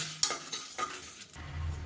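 Soft sizzling of curry leaves frying in a pan, with a few scraping stirs of a spoon against the pan, close and quiet.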